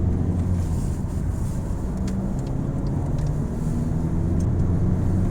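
A VW Touran 2.0 TDI diesel engine rumbles steadily at close range, a low continuous drone holding level as the car accelerates.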